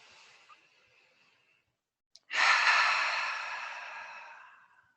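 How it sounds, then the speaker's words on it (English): A slow group breath at the close of a trauma-informed yoga session: a faint exhale fades to silence, then a click and a long, audible inhale that swells and slowly tapers off, with no talking. "take one collective breath with me to close out our time together"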